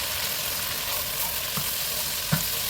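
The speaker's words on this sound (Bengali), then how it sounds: "এখানে গরম মশলার গুঁড়া দিয়ে দিলাম জিরার গুঁড়ো দিয়ে দিলাম" Ground garam masala and cumin powder fry in hot oil for khichuri, with a steady soft sizzle and a few light scrapes as the spoon stirs, the loudest one a brief knock near the end.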